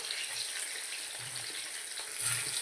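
Potatoes fry in hot oil seasoned with asafoetida, giving a steady close sizzle with faint clinks and stirring underneath, with no voices.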